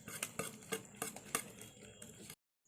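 Eggs and milk being beaten in a bowl with a utensil, quick repeated clinks and scraping strokes close by, stopping abruptly near the end.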